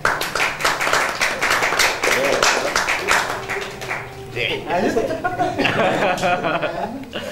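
An audience claps during a prize presentation for third place at an anniversary event, with distinct nearby handclaps, some laughter and people talking over the clapping.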